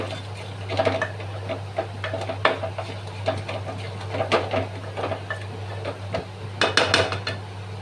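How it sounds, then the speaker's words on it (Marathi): Repeated scraping and clinking of a spatula stirring masala in a pan, irregular strokes over a constant low hum. "आता हे चांगलं परतून घ्या"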